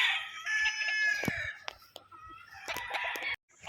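Tethered early bird gamefowl roosters crow and cluck nearby, with one bird's long crow at the start followed by scattered clucks and a second crow, set against faint background noise.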